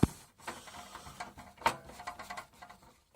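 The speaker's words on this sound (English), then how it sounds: "You don't want to watch me screwing these in." Small screws being driven into the RCA sockets of an Arcam Delta 290 P amplifier, heard as a string of faint mechanical clicks and ratcheting ticks, quiet and close, with no talking.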